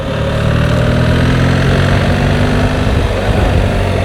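BMW R1300 GS Adventure motorcycle engine running steadily and close, taking a gear shift into second through a tight right-hand bend, with a brief dip in the drone near the end.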